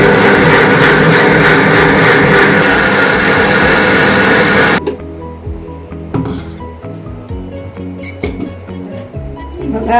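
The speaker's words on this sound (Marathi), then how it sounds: "मी हे खोबरं आपल्या मिक्सर मध्ये फिरवून घेते" Kitchen mixer grinding coconut, a loud continuous whirring grind that stops abruptly midway, followed by clinks of utensils and dishes being handled.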